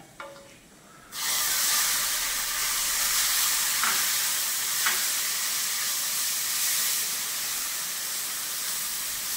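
Ginger garlic paste is added to a pan of well-browned fried onions and hits the hot oil with a sudden loud, sustained sizzle. The hiss holds steady, with a few faint stirring scrapes.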